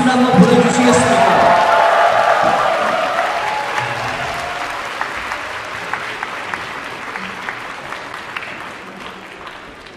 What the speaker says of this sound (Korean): 다시 한 번 여러분 우렁찬 환호 속과 박수를 한번 보내주시겠습니까?